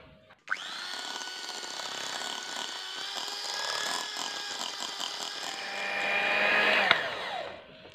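An electric mixer beats cake batter for a steamed milk sponge cake after sweetened condensed milk and powdered sugar go in. It starts abruptly into a steady, close whine that hums on evenly and swells slightly before it stops.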